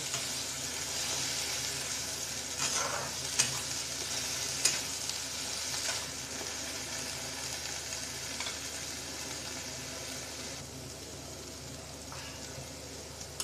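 Ground paste and onions fry in a pan with a continuous moderate sizzle, broken by occasional clinks and scrapes of a stirring spoon, and no voices.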